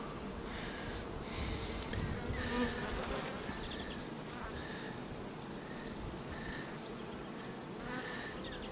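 Honeybees buzzing around a queen bee at a hive, a dense near drone with individual wingbeat whines rising and fading, faint rustling underneath.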